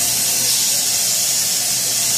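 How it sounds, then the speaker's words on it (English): Steam locomotive 6029, the largest in the southern hemisphere, vents a loud, steady hiss of steam at a heritage rail festival, continuous and close without a break. "Steam locomotive 6029, the largest steam locomotive in the southern hemisphere"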